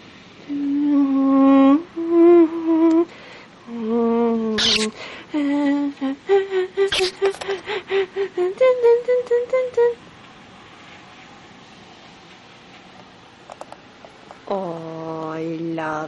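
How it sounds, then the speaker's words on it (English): An indoor cat meows close by, with several drawn-out calls followed by a quick run of short chirping cries; a quiet pause follows, then one more long meow at the end, with a storm outside. "He's a kitty boy."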